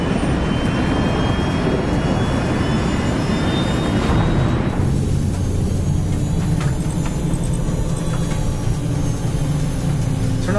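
Airliner jet engines roar steadily and loudly during the climb toward 33,000 feet, a dense, continuous broadband rumble with a thin whine that drops away about halfway through.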